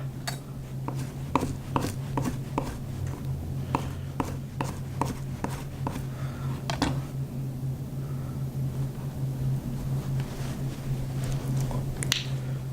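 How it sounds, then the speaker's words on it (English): A knife chops fresh basil on a cutting board, making a quick series of crisp, evenly spaced taps over a steady low kitchen hum. "Piece of fresh basil. Little chop."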